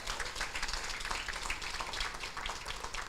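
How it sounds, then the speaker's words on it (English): Moderately quiet, steady applause from an audience at a university Health and Human Services building groundbreaking ceremony, an even crowd of hands clapping for about three seconds with no speech. "Please give her a round of applause."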